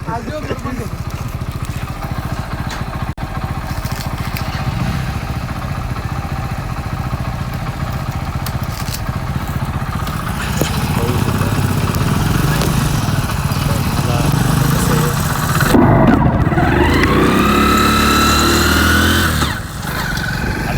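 A motorcycle engine runs steadily throughout as the rider works the clutch and shifts gears one-handed, with revs rising near the end and a voice talking over it.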